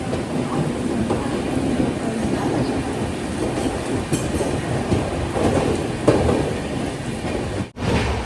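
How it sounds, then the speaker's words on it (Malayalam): The Deccan Queen Express runs from Pune toward Mumbai on a day of extreme rain, overtaking a local train: a loud, steady rumble and rattle of wheels and carriages with rain hiss, briefly cutting out near the end. "ഒരു ലോക്കൽ ട്രെയിനെ ഇവിടെ വെച്ചിതാ ഓവർടേക്ക് ചെയ്യുകയാണ്"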